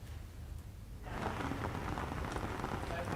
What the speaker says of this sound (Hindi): अब जो बारिश हो रही है ये खुशहाली की बारिश इसे कह सकते हैं